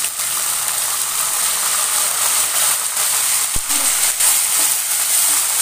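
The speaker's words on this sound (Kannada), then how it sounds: "ಈ ಟೈಮಲ್ಲಿ ನಾನು ಈರುಳ್ಳಿ ಹಾಕ್ಕೊತೀನಿ." Onions sizzle loudly and continuously in a hot pan, a dense close frying hiss with a brief utensil knock near the middle, no voices.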